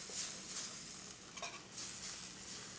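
Halibut and fresh pasta being tossed and stirred in a hot pan, a steady close sizzle with scraping and a few brief clinks, no voices.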